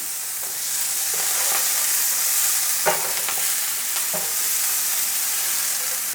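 Seasoning with fresh thyme cooks in oil in a pot for turn cornmeal, a steady close sizzle with a few sharp stirring scrapes and clinks over it.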